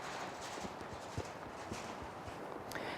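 A ridden horse walks with soft, even hoof clops in a steady rhythm, fairly faint against a quiet outdoor background.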